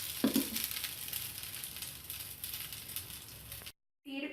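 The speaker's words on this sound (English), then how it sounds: "Pour the mixture into a grill or hot skillet and let brown on both sides." Batter mixture for a Colombian breakfast frying in a hot skillet, a steady sizzling hiss that holds evenly and fairly softly before cutting out briefly near the end.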